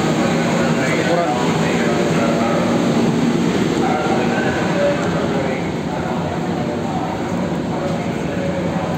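Interior of a moving passenger train, a loud constant rumble and hum filling the cabin throughout, with people talking over it.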